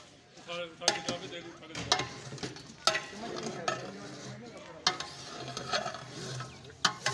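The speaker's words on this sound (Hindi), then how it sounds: "तो अब ये इसको हिला रहे हैं" A large biryani deg of beef, onions and tomatoes is stirred, with metal ladle scrapes and knocks against the pot over a soft sizzle while people talk nearby.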